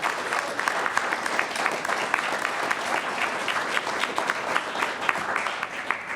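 Steady audience applause at a board of education meeting honouring the 2022 state boys tennis champions, a dense, even wash of many people clapping throughout.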